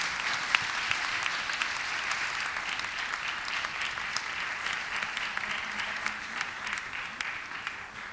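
Audience applause for panelists at an international humanities symposium, moderately distant and steady, fading slightly toward the end.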